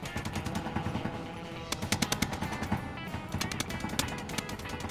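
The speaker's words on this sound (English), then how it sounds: "Oh, that was a good shot" Rapid gunfire bursts from the video game Space Engineers during a race-course battle, sharp repeated shots over a dense, busy game soundscape with constant mechanical background noise.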